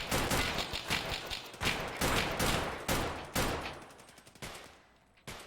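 Gunfire in Tarkov Arena comes as a string of loud, sharp gunshots in quick irregular bursts, each with a short ringing tail. The shots grow sparser and then stop near the end.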